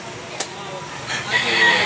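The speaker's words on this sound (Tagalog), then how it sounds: "Wapo gandang manok." A rooster, one of several fowl kept for sale in Tabunok, Cebu, lets out a faint crow that rises toward the end of a short stretch of steady background noise, with a brief click early on.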